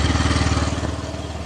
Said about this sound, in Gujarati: એક્ટિવા લઈને જવાનું, એનો કોલ સ્ટાર્ટ ચેક કરી લ્યો